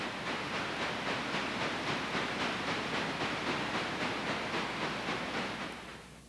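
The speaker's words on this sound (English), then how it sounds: "Another C-16, number 280, heads out with a work train in tow." Chesapeake and Ohio class C-16 steam locomotive No. 280 heading out with a work train, a steady loud chuffing exhaust beat with hiss, close by, fading slightly at the end.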